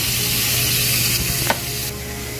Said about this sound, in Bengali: আমি পটলটাতে এখানে ভাজতে দিয়ে দিয়েছি, পটলটা তো ভাজা হচ্ছে।